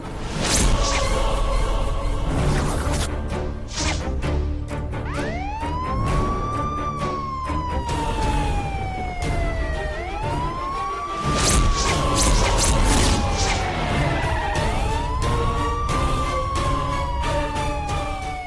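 Emergency siren wails in repeated rising and falling sweeps, loud and continuous over a dense street or drama background with no voices, from an ambulance arriving in a Telugu TV serial scene.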